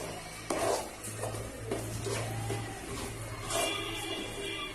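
Mashed elephant foot yam is stirred and sautéed in oil in a pan, with a soft steady sizzle, scraping and occasional clinks of a spoon against the pan.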